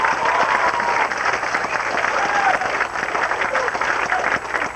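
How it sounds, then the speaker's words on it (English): An audience claps for children at a 1994 small-town talent show, dense steady applause and crowd noise filling the room throughout, with a voice briefly heard over it. "Let's give all these kids a round of applause."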